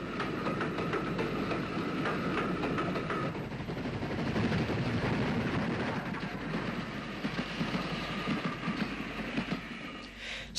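Steam-hauled passenger train on the NCC system running from Larne Harbour to Belfast in Ulster, a continuous loud rumble and roar with rhythmic wheel clatter, heard close and without any talk.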